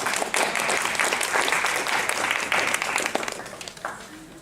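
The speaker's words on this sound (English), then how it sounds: "Let's applaud Tony." An audience bursts into applause at a talk, clapping thickly and continuously for several seconds before tapering slightly near the end.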